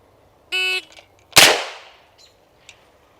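A gun firing while a Meprolight M22 reticle is tested: a short electronic timer beep, then one sharp, loud shot that rings out, followed by faint clicks.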